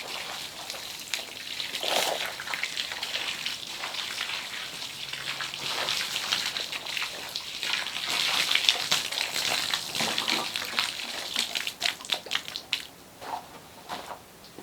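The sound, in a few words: water being poured into cob mix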